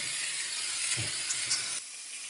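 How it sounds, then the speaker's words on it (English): A steam cleaner sprays onto a dirty, grimy oven with a steady, loud, close hiss that steps down to a quieter, softer hiss near the end. "let's turn this off so the steam goes away"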